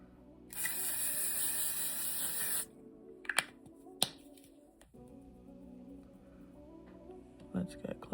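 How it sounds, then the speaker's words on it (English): A sustained hiss of L'Oreal Infallible setting spray misting onto a face for about two seconds, followed by a few sharp clicks and soft handling noises. "Let's go in and set our face with our setting spray."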